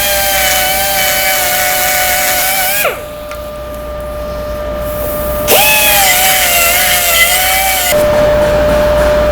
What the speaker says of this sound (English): We also want to die grind on the locking mechanism itself,